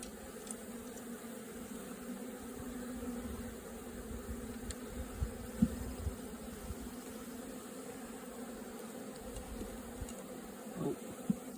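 A freshly caught honey bee swarm hums steadily throughout, a dense, continuous buzz close by, with occasional individual bees zipping past the microphone.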